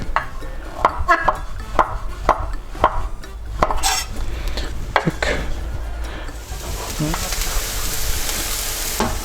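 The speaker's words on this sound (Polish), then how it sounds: "Dodaję mój czosnek. Rzucam pieczarki." Garlic and mushrooms are added to a frying pan: sharp knocks and scrapes on the pan, then a dense, close sizzle that swells and holds.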